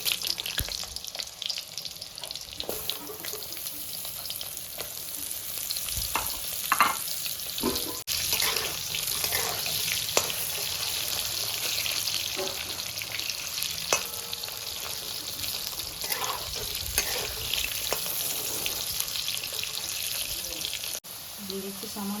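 Potatoes hiss and sizzle in hot mustard oil seasoned with kalo jeera, a steady frying crackle with stirring and scraping clatters throughout, heard close up under intermittent talk.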